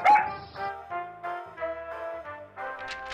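A dog yips and whines in a run of short, high, tonal barks, close and fairly quiet, with a brief clatter at the start.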